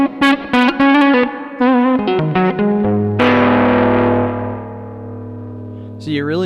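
An electric guitar runs through a Chase Bliss Clean pedal with its compression turned off, heard alone: plucked notes and quick runs, then a loud strummed chord that rings out and slowly decays, with a few notes returning at the end.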